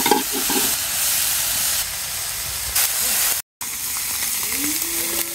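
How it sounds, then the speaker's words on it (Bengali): Fish frying in a pan, a continuous close sizzle and hiss with a brief stir or clatter early on and a short cut in the middle. "হালকা একটু ভাজবো।"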